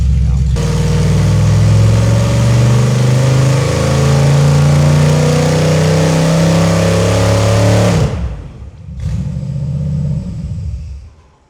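A Chevy 350 V8 on a dyno holds a loud, sustained, rising rev for about eight seconds, then cuts off abruptly and settles into a lower rumble before dying away.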